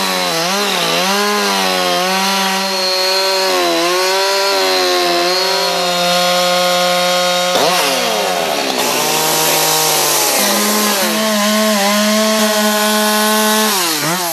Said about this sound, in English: taking a log and using a chainsaw and trying to carve out different figures from a log using a chainsaw